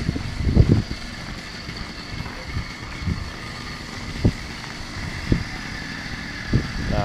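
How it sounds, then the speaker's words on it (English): An 80cc motorized bicycle engine idles with a clutch that grabs, giving an uneven, sputtering run of soft low pops and surges under steady wind noise, fairly close and moderately quiet. "It's idling, but I can hear it grabbing."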